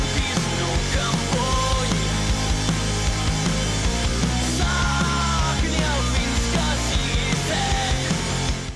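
Loud rock music plays continuously, with dense distorted guitars, pounding drums and a sung vocal line.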